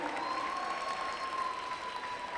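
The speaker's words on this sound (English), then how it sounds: "Give them a big round of applause." Audience at a Diwali celebration in the Chicago area applauds, a continuous even wash of clapping heard at some distance with a faint tonal whine running through it.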